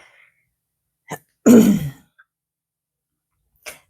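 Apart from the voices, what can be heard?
coughing fit from allergies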